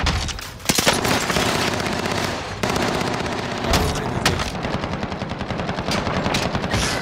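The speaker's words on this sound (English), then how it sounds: "Who's behind me shooting right now?" Sustained automatic gunfire in a Warzone battle, rapid close bursts of shots rattling almost continuously with a few sharper heavy reports cutting through.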